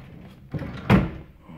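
A bedroom wardrobe door in a rental apartment is pulled open, giving a short rustle and then a sharper wooden knock or thud, close and brief.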